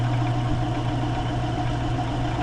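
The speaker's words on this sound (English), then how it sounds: "Let's turn on the lathe at the slowest speed and see if it's running good." A lathe running at its slowest speed, about 400 RPM, gives off a steady low motor hum with a faint mechanical whir, constant and close.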